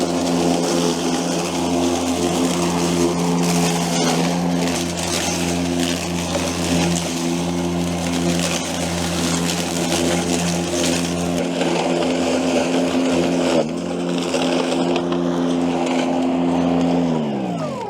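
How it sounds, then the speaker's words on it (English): Battery-powered mower with an aluminium deck and aluminium wheels crossing rough, lumpy ground, its steady motor hum loud and constant with faint rattles, easing down near the end. "those aluminium wheels, are just riding right over it."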